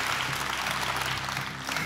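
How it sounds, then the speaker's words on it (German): Studio audience applause on a German TV game show, dense, even clapping filling the short stretch at a strong, steady level with no talk over it. "aber großen Applaus"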